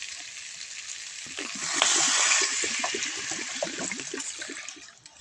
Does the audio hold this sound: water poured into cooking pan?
yes